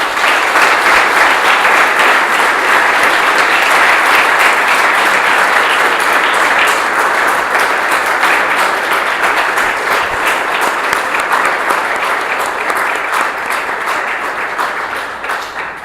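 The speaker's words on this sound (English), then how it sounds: "Let's give him a round of applause" Sustained, loud applause fills a hall at a men's gathering after a guest lecture, dense clapping from the audience that holds steady and tapers slightly toward the end.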